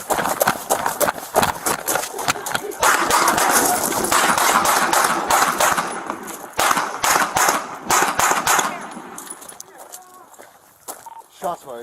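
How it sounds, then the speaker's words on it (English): A rapid burst of gunshots during a police encounter, loud sharp cracks tumbling over one another amid shouting voices, then thinning out into scattered reports as urgent talk continues. "Shots fired. Shots fired."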